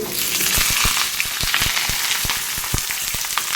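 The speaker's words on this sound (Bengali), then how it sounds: "শুকনো লঙ্কা তেজপাতা শুকনো আর গোটা জিরে আলুটা ভেজে নিই" Potatoes fry in a pan of hot oil with dry red chilli, bay leaf and whole cumin, giving a steady close sizzle broken by sharp crackles and spits throughout, with no voices.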